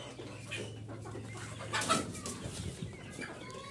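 Fayoumi hens at a backyard poultry farm give scattered soft clucks and short calls against a steady low background hum, with a slightly louder burst of bird noise near the middle.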